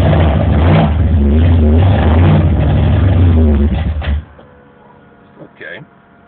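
A 1987 Buick Regal with a Stage-1 455 engine and an MSD-6AL-2 two-step ignition, loud close engine roaring and revving in surging pulses, then cutting to a quiet idle with a brief clunk.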